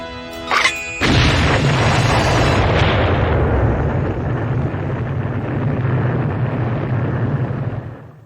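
After a brief electronic tone, a huge nuclear bomb explosion booms and rumbles loudly, its roar slowly fading over several seconds.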